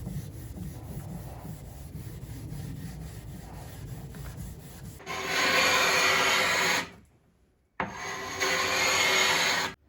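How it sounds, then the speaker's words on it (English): Steel wool soaked in acetone scrubs the old finish on a vintage wooden dresser. A softer rubbing comes first, then loud, steady, close abrasive strokes that pause briefly and resume. "Anything remaining, I just scrubbed away with my steel wool and acetone."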